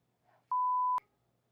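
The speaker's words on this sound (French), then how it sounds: "on va faire un bip" A censor bleep covers a swear word: one steady, pure, loud electronic tone lasting about half a second, cutting in and out abruptly between faint background murmur.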